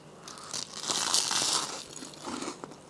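Close-up crunchy bite into a chocolate toast muffin, a crisp crackling crunch swelling and fading over a second or two, then a smaller follow-up crunch, with no talk over it.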